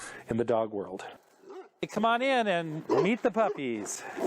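Tibetan mastiff puppies give short high yips and whimpering barks in quick bursts, close by, with voices in between.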